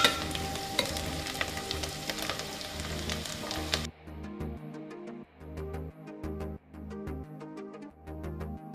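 Shallots, garlic and thyme sweat in a pan for a mushroom risotto, giving a dense, steady sizzle that drops to a quieter frying crackle broken by rhythmic stirring scrapes.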